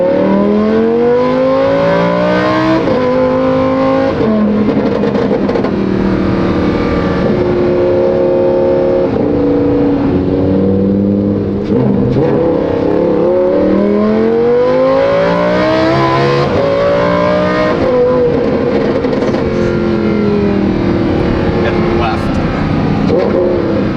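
Lamborghini Huracan fitted with an F1-style exhaust revs repeatedly, its loud engine note climbing and falling in sweeping pitch rises, close up and dominating, with people talking over it.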